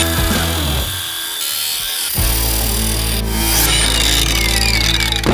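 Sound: angle grinder cutting bolts on an armored car

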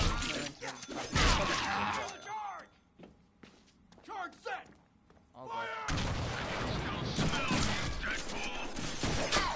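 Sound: gunfire from the Deadpool video game

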